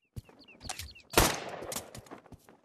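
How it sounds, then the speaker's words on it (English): A single loud shotgun blast bursts out and trails off, preceded by a few short, sharp cracks and faint high chirps. "Shotgun."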